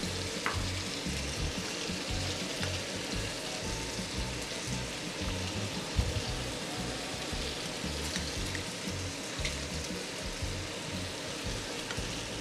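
Onion and garlic fry in sesame oil with a steady, dense sizzle and crackle that stays close and even throughout, with no voices over it.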